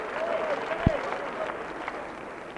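Crowd at the 1989 World's Strongest Man contest applauding, a broad steady patter of clapping at a distance, with a single sharp knock and a voice over it.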